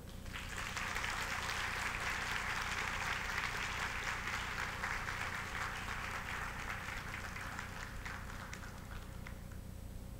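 Audience applause at a bank inauguration ceremony for two deputy presidents, quiet and distant continuous clapping over a hum in a large hall, fading gradually toward the end.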